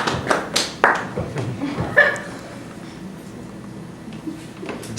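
Scattered claps and a few chuckles from a live comedy stage audience voting for the painting. A short burst of sparse clapping thins out into near quiet.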